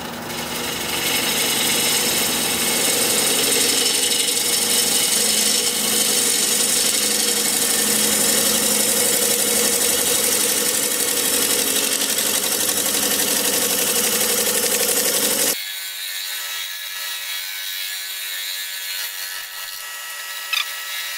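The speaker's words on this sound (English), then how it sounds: "about 710 RPM. Freshly sharpened 5/8 inch bowl gouge" Wood lathe running at about 710 RPM while a freshly sharpened 5/8 inch bowl gouge cuts a bowl: a loud, steady scraping whir with a constant motor drone, the cutting stopping abruptly near the end, leaving the lathe spinning alone.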